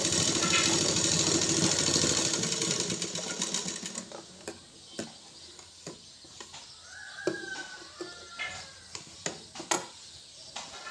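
Sewing machine stitching folded fabric during a tailoring class, a steady loud whirring run for about four seconds that then stops, leaving scattered clicks and handling noises.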